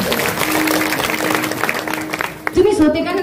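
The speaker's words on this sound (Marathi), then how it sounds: "त्यांच्या करता एकदा जोरदार टाळ्या वाजवा" An audience claps steadily through a kirtan, a dense wash of applause with a sustained tone underneath and a voice rising over it near the end.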